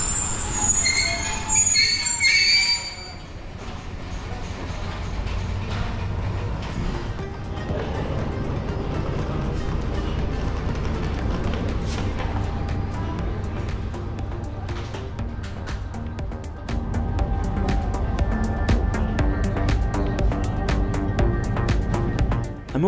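A Sri Lanka railway train on a scenic route runs loudly and continuously, its wheels squealing in long, high-pitched stretches over the rumble of the cars.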